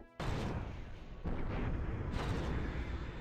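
Heavy gunfire from the space combat game Nexus: The Jupiter Incident, a dense, continuous barrage of booming shots that starts abruptly and rolls on loud and unbroken, with a slight surge partway through.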